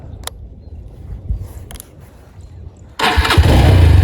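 A Honda Tiger Revo motorcycle engine cranking with a few faint clicks and starter turns, then catching at about three seconds into a loud, close, steady running roar.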